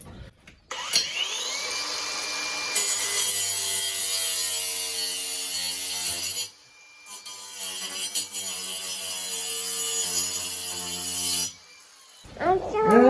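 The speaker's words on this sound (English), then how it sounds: "I'm going to use what I currently have, and that's just my angle grinder" An angle grinder cuts through a metal chain on a farm, a loud continuous high-pitched grinding whine that runs for several seconds, stops briefly, then resumes and cuts off near the end.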